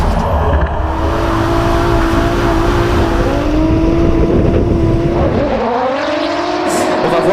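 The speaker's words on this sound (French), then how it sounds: "Pour Jérémy Merires, il prend très large, il va utiliser toute la piste pour l'appel contre appel." A drift car at a French drift championship round swings wide across the track, its engine droning loudly and continuously with rising and falling revs as it slides through the turns, close and sustained throughout.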